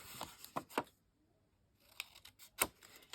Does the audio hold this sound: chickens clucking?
no